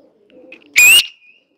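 A pigeon gives a single brief, loud burst of sound, preceded by faint low murmuring tones.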